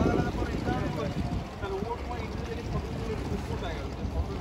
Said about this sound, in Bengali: চলো জেট স্কি এখানেই দাঁড়িয়ে আছে